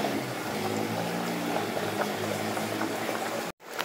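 Food simmering in a pot on a home stove gives a steady, close rolling bubble with a low hum that runs unbroken for several seconds, then cuts off abruptly near the end.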